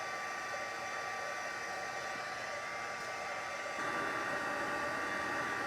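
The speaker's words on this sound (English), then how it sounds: "I like our heat tool because it has 2 settings" Heat embossing tool blowing hot air during card making, a steady close whooshing hiss with a slight jump in loudness near the end as the setting is raised.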